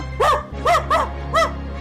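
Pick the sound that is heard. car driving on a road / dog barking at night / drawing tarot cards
dog barking at night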